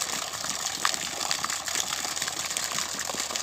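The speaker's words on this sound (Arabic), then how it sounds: "وجاي يطلع مي، هذا المي شوفوا" Water gushes steadily from an Iraqi-made, solar-powered submersible pump fed by five 250-watt panels, drawing from 35 metres down through a one-inch pipe, a continuous close splashing rush.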